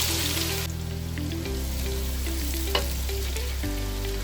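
Onions frying in plenty of oil for a yakhni-style beef biryani, a steady loud sizzle that runs unbroken from start to finish, with a low hum and a faint stir or clink near the middle.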